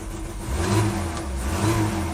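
A rescued 1983 BMW 320i E21 engine running a little unhappily, its close, rough idle swelling into mild revs and settling back, with no talk over it.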